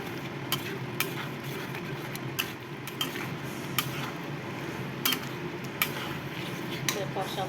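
Spices and food with sugar being stirred in a pan, with regular light taps and scrapes of a utensil against the pan over a soft sizzling background.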